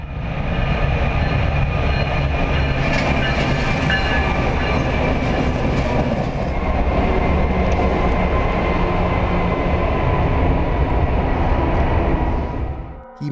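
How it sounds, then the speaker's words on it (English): A train roars past at speed, a loud sustained rush of rumbling wheels and clattering cars that holds steady before cutting off abruptly. "the train blazes by with only inches to spare."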